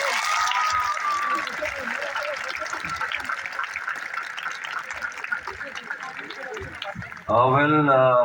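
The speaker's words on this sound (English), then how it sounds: "A huge round of applause for him." A crowd at a school-ground event in Kolkata claps for a cast and crew guest, steady mid-level applause for about seven seconds, ending abruptly as a loud voice starts speaking over a microphone.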